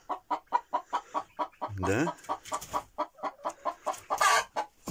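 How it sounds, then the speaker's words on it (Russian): Chickens cluck indoors in a rapid, rhythmic series of short calls close by, with one longer drawn-out squawk partway through and a brief voice near the end. "Вот курочки у нас по улице сейчас не гуляют,"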